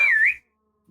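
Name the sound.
person imitating a whistle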